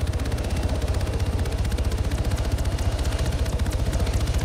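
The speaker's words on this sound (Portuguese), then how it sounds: "Era os tiros." Rapid automatic gunfire rattles nonstop in ARMA 3, a fast, even stream of shots blended with a low engine-like rumble, loud and close with no speech.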